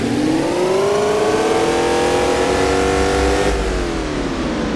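A Porsche Cayenne Turbo engine in a driving simulator game revving steadily with a throaty dual exhaust note heard from outside, pitch slowly rising then dropping off near the end, loud and close.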